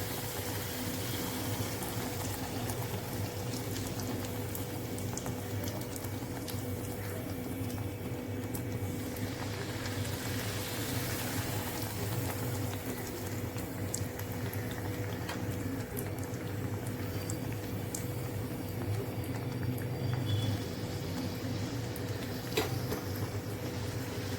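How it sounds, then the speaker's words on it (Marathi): Puris for pani puri frying in hot oil, a steady soft sizzle and bubbling that continues evenly throughout with faint occasional clinks. "तर बाकीच्या पुऱ्या सुद्धा अशाच फ्राय करून घ्यायच्या आहेत."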